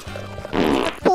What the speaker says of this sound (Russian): пукаем